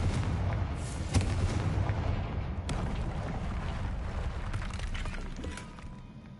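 A Confringo fire spell explodes in the video game Hogwarts Legacy. It makes a loud, dense rumbling blast with sharp cracks near the start, holds as a heavy roar for several seconds, then eases slightly, with no talk.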